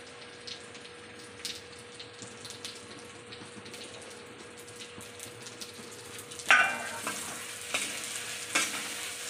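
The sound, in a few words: pointed gourd (potol) frying and being stirred in a pan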